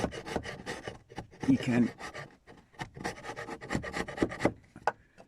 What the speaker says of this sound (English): I need to take out here the wood and have these wonderful chisels, wood chisels